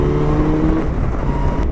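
A Kawasaki Versys 1000 motorcycle at full power gives a steady, loud engine roar with strong wind noise, heard up close and continuous without talk.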